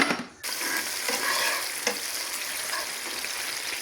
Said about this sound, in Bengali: তেলের ভিতরে দিয়ে দিচ্ছি পেঁয়াজ বাটা